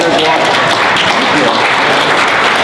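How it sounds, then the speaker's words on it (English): Loud, dense audience applause over a busy pub-style gathering at a charity business talk, a thick continuous roar of clapping and crowd noise with no clear gaps. "He deserves a round of applause for that."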